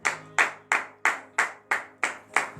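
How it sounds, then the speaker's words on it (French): Hands clap in a slow, even rhythm, eight sharp claps spaced about a third of a second apart, crisp and close with a short echo, during a morning prayer gathering in Benin. "Que je vous demande d'applaudir très très fort ce matin."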